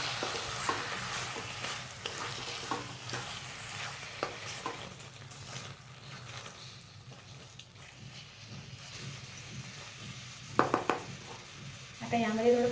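Boneless chicken masala being stir-fried in a pan, with a spatula scraping and clinking against the pan in irregular strokes over a low steady sizzle, plus a few louder clatters near the end, with quiet voice in the background.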